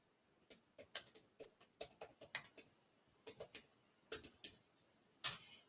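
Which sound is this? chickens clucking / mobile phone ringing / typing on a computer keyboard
typing on a computer keyboard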